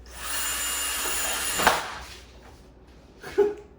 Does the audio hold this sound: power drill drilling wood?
yes